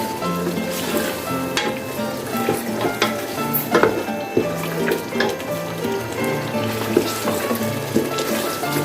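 Onions frying in oil for restaurant-style white mutton karahi, a steady close sizzle and crackle with occasional stirring scrapes and clinks throughout.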